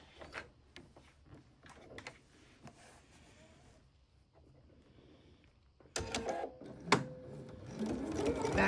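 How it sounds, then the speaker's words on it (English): A sewing machine stitches a seam along body lining fabric at the seam allowance, starting after quiet handling noises and then running as a steady, close mechanical whirring. "we're going to sew it at the seam allowance"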